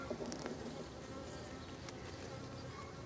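Honeybees drone in a steady, dense buzz inside an open hive, a continuous near hum with no pauses or voices.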